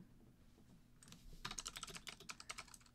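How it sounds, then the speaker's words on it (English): Typing on a computer keyboard in Discord: a quiet start, then a quick close burst of clicking keystrokes lasting about a second and a half, with no talk. "I'm typing in Discord."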